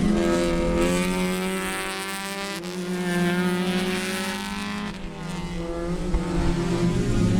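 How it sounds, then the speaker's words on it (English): Race cars, including a number 9 Acura Integra, roar past during a Sebring club race with IT, B-Spec and Touring classes, a sustained engine drone with shifting pitch as cars pass at a distance. "There's your number 9 Integra."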